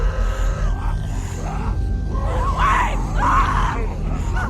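A girl screams and yells in distress within The Walking Dead Season 1 video game, with several loud, strained cries rising over a steady low rumble of game ambience and no talk over them.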